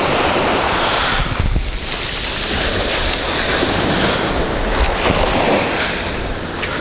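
Sea waves wash onto a fine pebble beach at a Turkish resort, a steady loud surf roar mixed with heavy wind buffeting the microphone, no voices.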